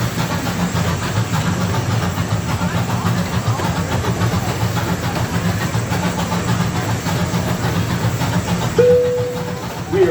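Kemah boardwalk amusement train ride rolling steadily with continuous low rumble and faint clickety-clack of wheels on track throughout, plus a brief tonal squeal near the end.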